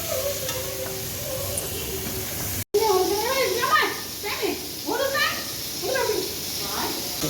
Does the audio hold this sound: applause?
no